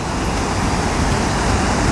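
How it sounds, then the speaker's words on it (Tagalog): Rushing river water pours over a mini dam on the Caliat River in Nueva Vizcaya, a steady, dense broadband roar with no breaks, close and loud throughout. "Sobrang nakaka-relax yung ano, yung tunog ng agos ng tubig."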